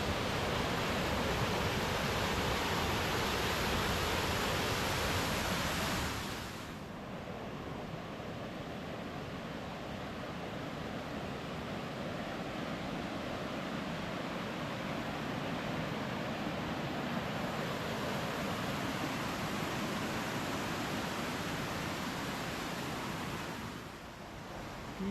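Water rushing over rocks in a stream near a large waterfall, a constant broadband roar that drops a little in level partway through and stays steady to the end.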